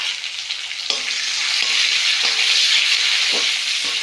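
Onion and tomato fry in a pan with dried chilli, a steady broadband sizzle throughout, broken by several soft scrapes of stirring spaced about a second apart; close and fairly loud, no voices.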